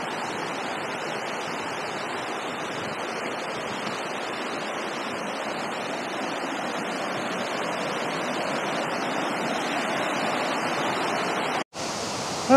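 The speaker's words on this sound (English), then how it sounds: "We made it down to the actual creek area." Creek water tumbling over rocks at Tumbling Waters in Ellijay, Georgia, a steady broad rushing wash that holds constant and close, briefly cut near the end.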